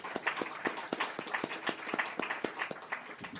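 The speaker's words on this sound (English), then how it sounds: "one last big round of applause for all the panelists today for joining us" Audience applause for conference panelists at the close of a session on ports, a steady run of sharp claps from many hands with no talk over it.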